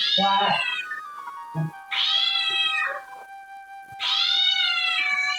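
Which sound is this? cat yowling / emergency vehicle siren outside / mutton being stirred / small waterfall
cat yowling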